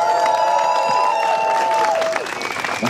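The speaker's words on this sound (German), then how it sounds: "Bitte nochmal einen Applaus für euch selbst." A crowd at a Stop TTIP closing rally on Braunschweiger Platz claps and cheers loudly, with a sustained whistle or shouted tone over the applause before it thins slightly.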